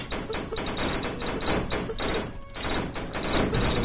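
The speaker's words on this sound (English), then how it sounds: "Especially this weapon that is firing at me." Repeated weapon fire in the video game Storms of Eos, a dense run of rapid shots and thumps with a steady, busy mix of game effects.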